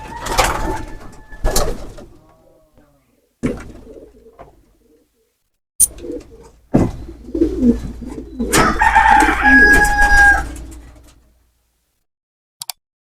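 Pigeons coo in bursts close by in a loft, separated by stretches of silence, with some clucking and a louder, fuller stretch of calls near the end.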